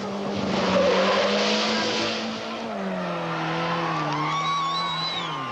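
Modified cars in illegal street racing rev and hold a sustained engine drone, with pitch sliding down and up as they accelerate, while high tire squeals and skids streak over the noise, loud and continuous.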